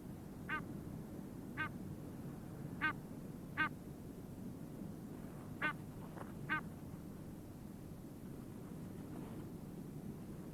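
Pink-footed geese call from a rocky Arctic outcrop where they nest, six short honking calls spaced a second or two apart over a steady low rumble of wind or distant noise.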